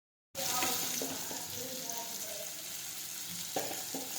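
Sev tameta curry sautés in a pan with turmeric, a steady soft sizzle running throughout, with a few stirring scrapes near the end.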